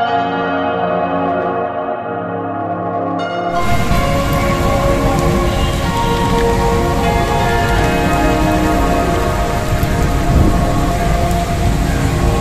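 A steady, dense hiss of heavy morning rain pours down at Toba Tek Singh, close and loud, after a short musical opening, with no talking.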